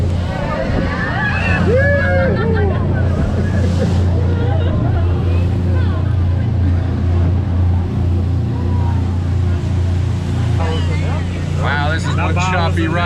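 A small boat heading to Balmoral Island rides through choppy 5 to 7 foot sea swells: a steady, loud engine drone with water sloshing and wind, while people talk over it.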